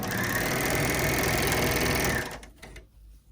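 A sewing machine runs steadily, stitching the base seam of a fabric bottle gift bag, its fast needle whir continuous and close for about two seconds before stopping, followed by a few faint handling clicks.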